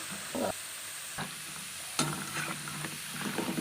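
Prawn balls fry in hot oil with a soft, steady sizzle, broken by a few clinks and scrapes of a turning utensil, close but fairly quiet.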